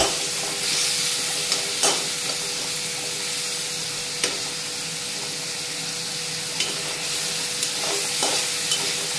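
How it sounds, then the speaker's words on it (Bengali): Bottle gourd pieces frying in spice masala in a pan, a loud steady hissing sizzle with sharp, irregular stirring knocks of a spatula every second or two, no talking. "লাউগুলো দিয়ে ভালো মতো একটু ভেজে নেব।"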